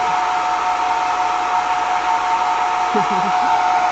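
A hair dryer runs steadily and close by, drying paint on a gel print made with layered leaf stencils, as a continuous loud whooshing hum that holds an even level throughout.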